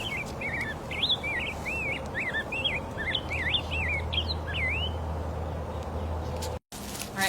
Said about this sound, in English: you can bring up bird songs to share with your kids